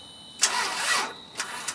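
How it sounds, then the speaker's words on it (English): Car engine cranking without catching, a single sustained churning crank burst followed by two brief clicks or short crank attempts, close and fairly loud in a quiet setting. "It ain't gonna turn over."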